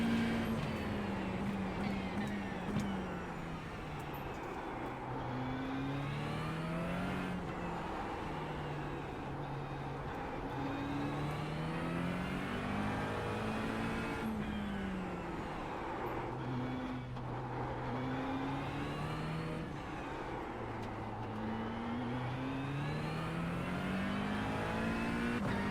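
GT race car engine in the iRacing sim revs up and upshifts again and again, each gear change a clear drop in pitch followed by another rising wail, steady and mid-level throughout.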